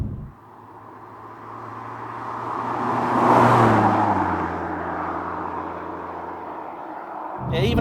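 A BMW M2 engine builds revs and swells to a loud peak near the middle before easing off, heard from inside the car with a faint rising whine.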